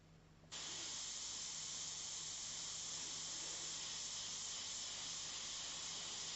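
Airbrush spraying paint for a soft-blended oil portrait: a sudden steady, close hiss of air and spray that starts after a brief pause and holds evenly to the end, with no talking.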